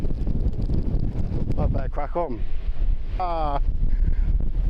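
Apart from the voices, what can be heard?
strong wind in the Cairngorms near Loch Morlich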